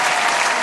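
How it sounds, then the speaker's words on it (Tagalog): Dense applause from a group, steady and loud throughout a very short burst with no voices over it. "Teka lang, lagyan natin ng palakpak."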